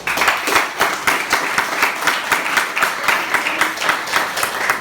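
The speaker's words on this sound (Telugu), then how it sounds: "సో దయచేసి ఒక్కసారి లేడీస్ క్లాప్ ఇస్తారా" Women in an audience give a round of applause, a dense, even burst of many hands clapping together for several seconds, loud and close without talk.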